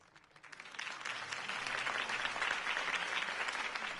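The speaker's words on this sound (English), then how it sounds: "could have heard that applause" Crowd applause erupts after a mayoral campaign speech for Harvey Dent in Batman The Telltale Series game, a dense, steady wash of many hands clapping that swells in within half a second and holds loud and even to the end, with no talk.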